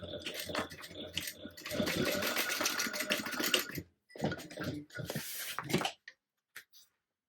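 A sewing machine tacks the sides of a small fabric tote bag, running in fast rattling bursts that pause and restart, then trailing off into a few faint clicks and near silence.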